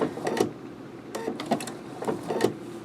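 A domestic sewing machine stitching applique runs in short, quiet bursts, stopping and restarting several times as the fabric is pivoted, each burst a quick mechanical chatter with no voices.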